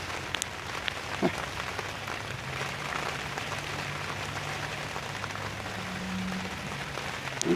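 Steady rain patters outdoors around a teepee project site, a dense, even hiss of drops hitting the ground with a low hum running underneath.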